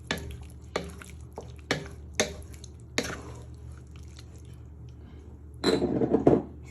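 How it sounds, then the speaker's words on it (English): A spoon stirs chicken chasseur in a pan in a few separate strokes, each a short wet scrape and clink, close by, then a longer sloshing stir near the end. "You start giving that a little bit of a stir in, so we'll give flavour to our dish."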